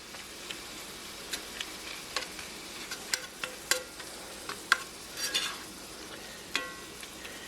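Ground spices frying in rendering pork fat for New Mexican-style homemade chorizo, stirred and chopped with a spatula: a steady soft sizzle broken by sharp, irregular ticks and scrapes of the spatula against the pan, close up.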